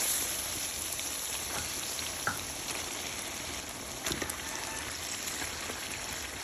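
Beef going into sizzling spiced oil on a clay stove gives a steady, even crackle and hiss, with a few sharper pops and spatters standing out above it, fairly close and with no voices.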